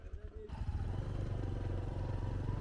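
A motorcycle rides along a rough village road in Madhupur. Its engine gives a steady, close, rumbling drone that rises in after the first half second and holds through to the end.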